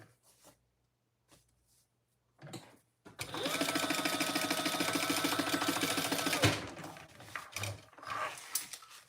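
A sewing machine stitches across the bottom of a fabric wallet, a fast, even mechanical whir that runs for about three seconds after some quiet handling noises, followed by light rustling.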